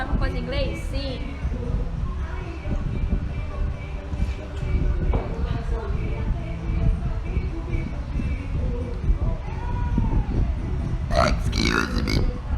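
A woman lets out loud, drawn-out burps over a continuous noisy background, with talking mixed in across the stretch.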